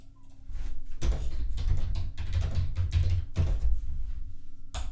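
Typing on a computer keyboard during a browser-extension demo: a steady run of close, soft key clicks with a few louder thumps, heard alone with no talk.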